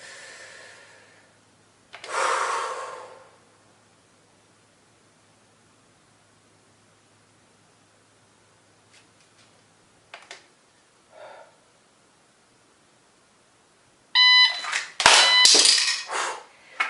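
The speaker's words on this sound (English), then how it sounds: "My magazine made a loud noise dropping on the floor." During a dry-fire pistol reload, an empty magazine drops to the floor with a bright, clattering metallic impact near the end, after a soft rustle and a few small knocks, in an otherwise quiet room.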